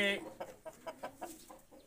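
A breeder rooster kept with bandh gaddi fighting birds gives a series of short, evenly spaced clucks close by after a brief loud opening call, with some speech nearby.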